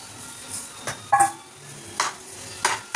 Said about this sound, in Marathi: आणि आता यात ॲड करणार आहोत साखर.